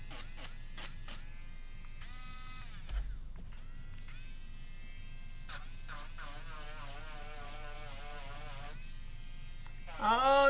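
A pink Dremel rotary tool whines in bursts during cosplay crafting, its high buzzing pitch rising and dropping as it speeds up and slows, starting and stopping several times at close range with no talk.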